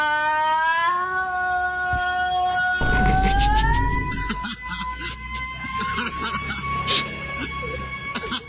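A voice imitates an ambulance siren with a long rising and falling wail, joined by loud laughter and other voices talking over it.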